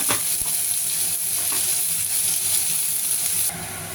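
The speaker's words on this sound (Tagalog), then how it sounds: "Gisa na natin yung white onion at sa garlic, pwede nang pagsabayin" White onion and garlic sizzle in butter in a pan for a lasagna sauce, a steady bright hiss with a few soft stirring scrapes, close and continuous with no talking.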